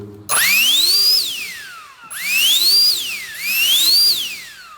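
A cheap Chinese turbo blower blows dust off dirty stairs, its motor whining up to a high pitch three times in loud, close bursts, each rising then falling away as the trigger is released.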